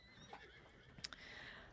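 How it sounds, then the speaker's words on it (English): Horses in Red Dead Redemption 2 give a brief whinny, fairly faint and distant, with a sharp click partway through and no talk. "I'm hearing some upset horses."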